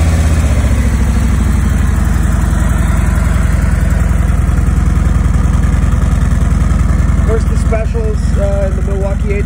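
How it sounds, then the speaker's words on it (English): A stock-exhaust Harley-Davidson 2018 Road Glide Special with a Milwaukee-Eight engine idles steadily and loudly up close, a continuous low rumbling throb with no pauses. "We'll give it a little listen here so you can see what it sounds like."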